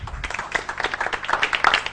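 Crowd applause for the Indomptables team on a French celebrity challenge show, a dense, steady patter of many hands clapping at once for about two seconds.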